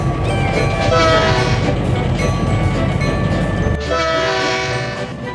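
A passenger train pulls away, loud and close, with a steady rumble, wheel clatter and a sustained horn-like tone that cuts off near the end, leaving lower rolling noise.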